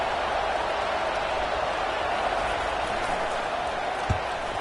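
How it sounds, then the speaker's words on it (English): A home crowd at an LSU football game roars loudly in a dense, sustained wash of cheering and clapping. "how nice is it to have the home crowd going absolutely bananas?"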